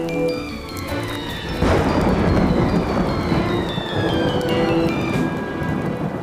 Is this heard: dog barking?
no